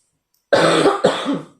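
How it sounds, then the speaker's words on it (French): Two harsh coughs in quick succession, close and loud, after a moment of silence, over gameplay of Mario + Rabbids Sparks of Hope. "je tousse beaucoup en ce moment"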